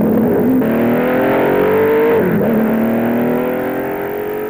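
A 1960s sports racing car, such as a Ferrari, Porsche, Chaparral or Ford, roars around the Brands Hatch circuit, its loud engine climbing through revs, dipping on a gear change, then pulling away and fading slightly.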